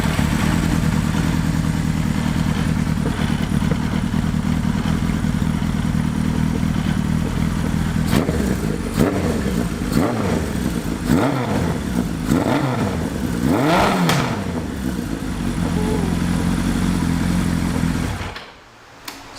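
A Suzuki GS1100E motorcycle with Mikuni RS34 carburetors idles loudly and steadily, then is revved several times in quick blips before the engine cuts off near the end.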